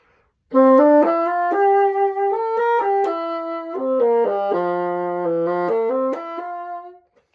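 A bassoon plays a quick, flowing arpeggio passage in grouped runs, solo and clear, rising and falling over about seven seconds.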